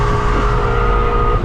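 A stage 2 tuned 700 hp BMW M5 (F10) pushed hard on a drive, its engine roaring loud and close with a steady strained drone and tire noise, no talk over it.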